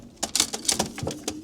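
A racing pigeon being handled for ringing gives a few soft, quick coos and fluttery bursts, faint and close, with no talk.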